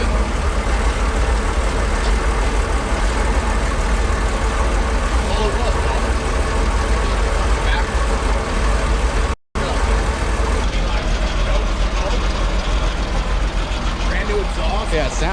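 A 1954 Chevy COE barn-find truck idles on a brand new exhaust, a steady low rumble that runs continuously with a brief dropout partway, while people talk over it.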